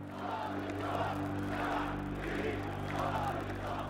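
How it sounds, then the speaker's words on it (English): Large crowd in a square during the Cairo revolution, a dense, distant roar of shouting voices swelling in waves, faint and steady, over a low electrical hum. "In the square, the crowds are growing and the tension is mounting."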